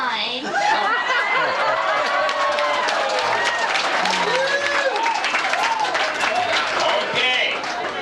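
A reunion audience breaks into dense, sustained applause after a child in a bug costume delivers a line, with chuckles, voices and chatter mixed through the clapping.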